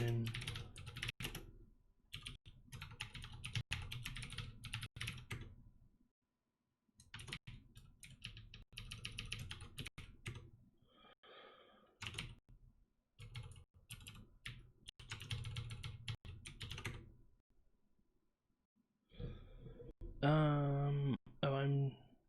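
Computer keyboard typing in bursts of rapid clicking keystrokes separated by pauses, close and fairly quiet, with a voice speaking near the end.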